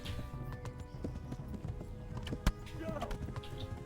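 Horse hooves clip-clopping in a galloping run in the medieval video game Kingdom Come: Deliverance, a steady rhythmic patter with a sharp louder hit midway, mixed with game noise and talk.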